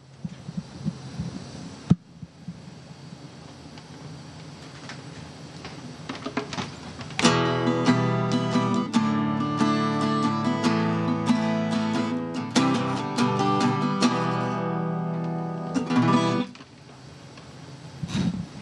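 Someone plays an acoustic guitar at a school event, with a few tentative plucks before a strummed passage of ringing chords lasting about ten seconds, then fading out.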